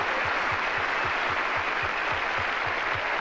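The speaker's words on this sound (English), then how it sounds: "Now we can applaud." Steady, dense applause from a large audience at the 1988 Country Music Awards, loud and continuous throughout with no pauses.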